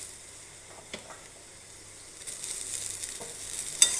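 Beans and broad beans being sautéed in hot oil: a soft sizzle that swells into a brighter hiss partway through, with faint stirring scrapes and a light clink near the end.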